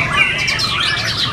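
A murai batu, or white-rumped shama, sings at a bird contest in Vietnam, a dense run of bright chirps and whistled phrases close by over a low crowd hum.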